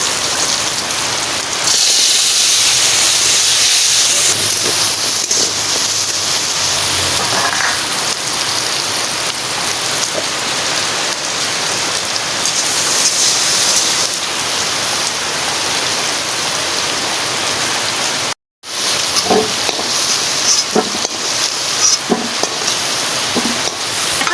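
Heavy monsoon rain pours down, a loud dense steady hiss of drops on surfaces lasting over twenty seconds, broken by a brief cut near the end before resuming with scattered patters.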